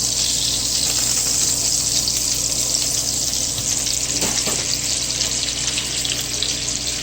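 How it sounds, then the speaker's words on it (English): Butter foams and sizzles in hot oil in a pan while chicken schnitzel is prepared, a steady close frying hiss filling the whole stretch with a brief stir or scrape near the middle and no talk. "Now I'm going to add a good stick of butter to this here. And you watch the butter foaming up."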